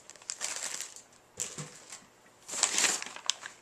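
Packing paper from an unboxing of Crowson TES bass shakers is crumpled and crushed nearby in bursts of crackling and rustling, separated by brief pauses.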